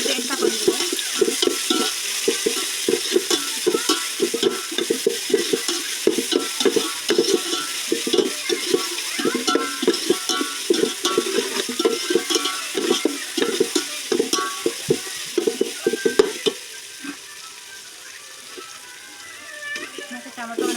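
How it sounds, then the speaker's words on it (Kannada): Ginger garlic paste frying in a pan for chicken biryani while a spoon stirs it, with close, rhythmic scraping strokes over a steady sizzle that quiets near the end. "ಇಲ್ಲಿ ಶುಂಠಿ ಬೆಳ್ಳುಳ್ಳಿ ಪೇಸ್ಟ್ ಹಾಕೋತಾ ಇದ್ದೀನಿ."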